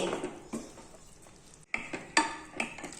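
A spoon stirs coconut milk into egg curry in a cooking pan, with soft scraping swishes and a few sharp metallic clinks against the pan, quiet and close.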